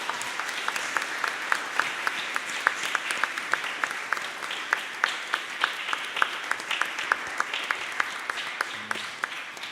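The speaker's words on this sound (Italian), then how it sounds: "E possiamo fare un applauso prima di tutto?" A church congregation in Verona applauds, a steady wash of many hands clapping at moderate volume with crisp individual claps standing out throughout.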